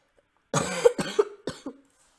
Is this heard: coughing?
yes